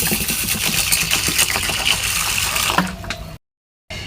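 Water poured onto rice and urad dal to soak them in a home kitchen, a loud, steady gushing splash that stops abruptly near the end, heard alone without talk.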